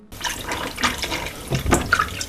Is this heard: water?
yes